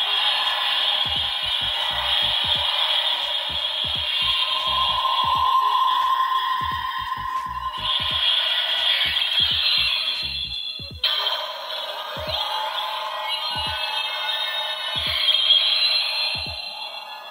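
A bootleg Chinese replica of the Ultraman Tiga Spark Lens changer toy plays its third, longer sound effect: a tinny electronic melody over a steady rhythmic beat, lasting many seconds from its small speaker.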